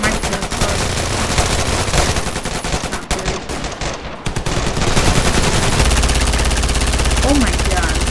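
Gunfire from a weapon in the Ravenfield video game, dense and continuous bursts that stay loud throughout, with game battle noise and a low rumble building toward the end.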